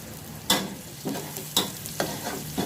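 Garlic sizzles in hot oil in a pan, a close, steady frying hiss punctuated by four sharp scraping stirs at roughly half-second intervals.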